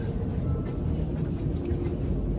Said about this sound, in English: this train is really fast